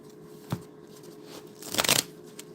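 Strat-O-Matic baseball game cards shuffled in a quick riffle, a short papery burst of flutter after a single soft tap, close and fairly quiet.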